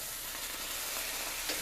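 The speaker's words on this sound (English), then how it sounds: "I'm going to go ahead and flip these over." A panini sizzles in a grill pan as it is flipped, with a steady, close hiss and crackle throughout and a small clatter near the end.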